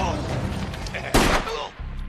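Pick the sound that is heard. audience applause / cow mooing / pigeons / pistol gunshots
pistol gunshots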